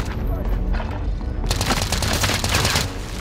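Dense, loud automatic gunfire in Call of Duty on Rebirth Island rattles nonstop in rapid overlapping bursts and grows harsher and fuller halfway through, with no pause.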